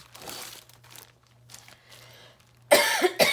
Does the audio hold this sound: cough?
yes